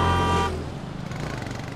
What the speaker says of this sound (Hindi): वो हॉर्न बजा रहा, सुनाई नहीं देता तुम्हें?